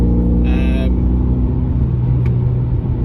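A Honda Civic Type R FN2 drives along with a loud, steady engine drone and road roar from inside the cabin, a brief higher whine early on and a voice speaking over it.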